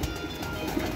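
Pigeons on a rooftop loft, soft cooing close by over a steady background hum, brief and without speech.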